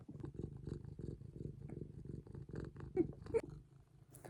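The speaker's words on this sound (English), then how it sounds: "So hopefully the purring isn't too much louder than my voice." A cat purrs close to the microphone in a steady, low, rhythmic rumble, with brief louder moments near the end.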